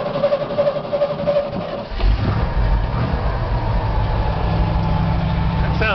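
An old car engine cranks on a cold day with a steady rhythmic starter churn for about two seconds, then catches and settles into a rough, steady idle.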